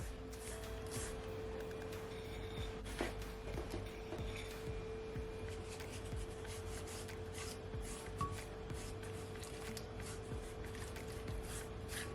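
A hand pats and rubs seasoning over raw pork chops, giving soft, close rubbing and dabbing scuffs against a low background hum, with an occasional light knock and no speech.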